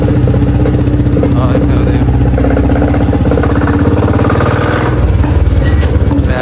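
A heavy Royal Enfield Bullet motorcycle engine thumps steadily at close range, a deep rhythmic idle that holds throughout with no pauses.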